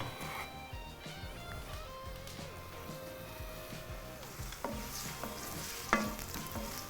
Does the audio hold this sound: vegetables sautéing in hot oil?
yes